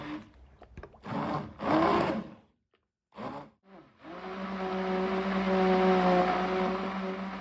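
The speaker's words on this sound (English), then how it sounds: "I'm using an immersion blender here because that's just what I had on hand" An immersion blender whirs in short bursts and then runs steadily, churning soaked paper scraps into a pulp paste, with a sustained close mechanical hum after the first pulses.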